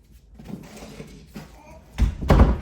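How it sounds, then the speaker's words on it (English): A room door swings shut in a messy house, ending in a solid thud followed by a second knock, preceded by soft rustling and faint movement nearby. "We're gonna close this door."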